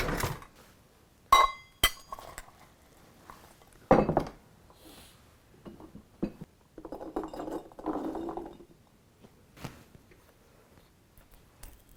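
Glass quart canning jars holding fresh cranberries, honey and juice clink and clatter as they are filled and sealed, giving sharp separate knocks and rattles with quiet gaps between, close by.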